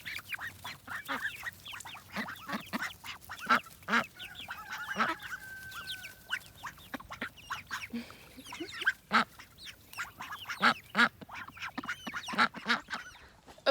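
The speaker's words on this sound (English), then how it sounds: "let's give the ducks these cherry tomatoes" Ducks quack repeatedly while eating cherry tomatoes in a Central Florida organic garden in mid July, giving close, busy bursts of calls with a few longer honking notes and no talking.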